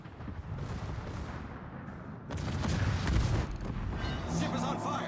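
Warship main-gun salvos in World of Warships rumble and boom in dense layers through a naval battle, loud and sustained, with a voice speaking over the gunfire.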